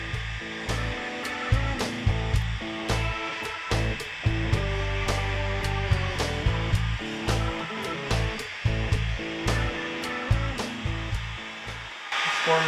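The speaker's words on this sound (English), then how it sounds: "Let's warm this up and then set the heat gun down" Heat gun warming paint protection film on a 2025 Rivian R1T hood, producing a steady close blowing roar throughout, broken by soft handling knocks and rustles.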